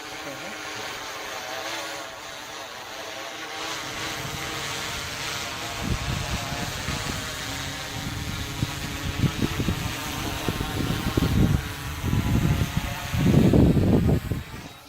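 Fire department drone flying back to its takeoff point in Cedar Hill, Texas, its steady propeller whine and buzzing hum running throughout, with people talking nearby as the sound grows louder toward the end.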